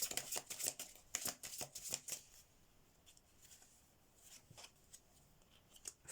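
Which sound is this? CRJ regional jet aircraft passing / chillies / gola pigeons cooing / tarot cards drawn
tarot cards drawn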